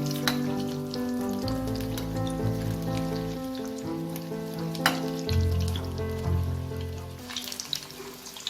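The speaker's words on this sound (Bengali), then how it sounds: "সবগুলো লঙ্কাকে এরকম ব্যাটারের মধ্যে চুবিয়ে তেলে দিয়ে দেবো।" Green chilli pakoras coated in batter fry in hot oil over a medium flame, a steady crackling sizzle with soft bubbling and faint stirring clinks and no talking.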